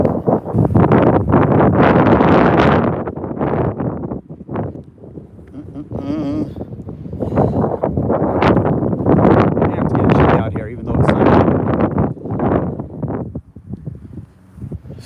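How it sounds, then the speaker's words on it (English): Strong outdoor wind buffets the microphone in heavy rumbling gusts for the whole stretch, loud and close, while a person talks underneath. "hopefully the wind's not too bad"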